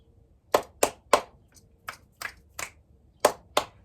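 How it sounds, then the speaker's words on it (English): One person alternates hand claps and finger snaps in a loose rhythmic pattern, about nine crisp, close, sharp hits with short pauses between them, no talk. "This I call clap snaps."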